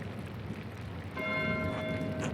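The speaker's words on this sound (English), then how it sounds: "Why is Matthew ringing the bell?" A monastery church bell in Pentiment begins ringing partway through, its clear sustained tone sounding over a low ambient background, moderately loud and alone.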